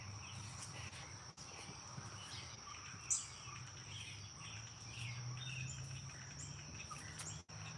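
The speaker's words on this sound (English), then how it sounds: "That's some birds in this nest right here." Faint, steady high chirping with scattered bird-like calls over a low hum, continuous and distant-sounding, no talking.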